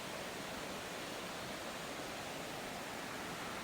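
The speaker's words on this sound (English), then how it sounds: "The river's down here." A river flowing in a rocky, wooded natural setting: a constant, even rush of water, steady and broadband with no breaks, heard alone and moderately faint.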